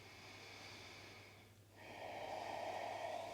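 A slow, deep breath close to the mic during a gentle yoga flow. A quiet inhale is followed by a brief pause and then a longer, airy exhale that is louder.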